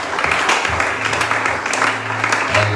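A church congregation applauding, dense steady clapping from many hands filling the room at a fairly loud level, with a low murmur of voices underneath.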